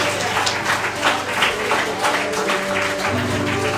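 A church congregation applauding during a worship service, with distinct individual claps in a loose rhythm over a sustained tonal backdrop of music or organ.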